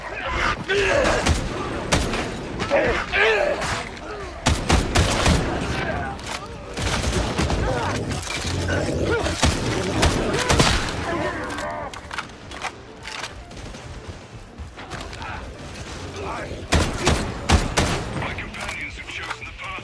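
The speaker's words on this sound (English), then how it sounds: "we're rocking a semi-automatic rifle here" A semi-automatic rifle in the video game Warhammer 40k: Darktide fires repeated sharp shots amid dense battle noise, thumps and crashes, loud and near, with someone talking over the combat.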